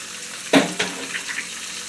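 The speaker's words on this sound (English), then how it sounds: "So I'm going to turn it down all the way to low, and I'm going to crack 1 egg." A single egg cracks with a sharp snap and drops into a pan over low heat, a soft sizzle following beneath steady background hiss, with no talking.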